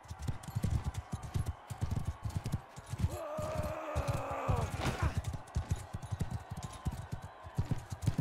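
Horse hooves pound in a steady rapid gallop in the medieval combat game Mount and Blade Bannerlord, close and rhythmic, with a brief tonal game effect rising midway and a voice talking faintly over it.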